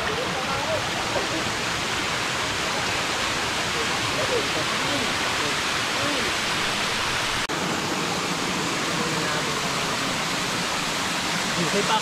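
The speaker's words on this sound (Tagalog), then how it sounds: "ito narating namin yung pangalawa saka pangatlong falls" A steady, loud, broadband roar of cascading water fills the air at the second and third drops of a multi-tier waterfall, reached by cables and stairways, continuous and unbroken throughout.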